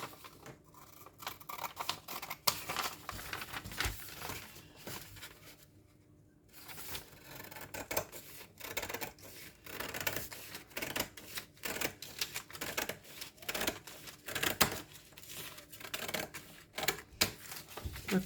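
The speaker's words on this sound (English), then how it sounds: "I'm going to go ahead and cut out the sleeve." Scissors snip steadily through paper as a sleeve pattern for a child's garment is cut out, with a dense run of quick close clicks, one brief pause, then more rapid cutting.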